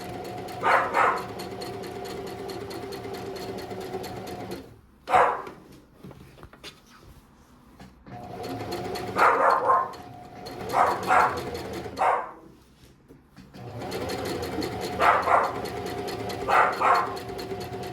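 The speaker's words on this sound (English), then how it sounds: "my dog is barking in the background." A dog barks at a distance in short bursts of two or three barks, separated by quieter gaps, over a low steady hum.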